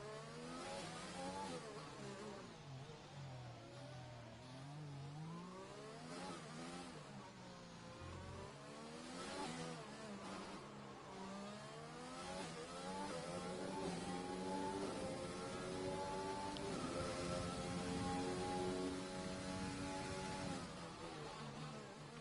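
A race car on an onboard lap around Monaco in a racing game, its engine revving high with repeated rising and falling sweeps as it shifts and brakes through corners, continuous and fairly quiet.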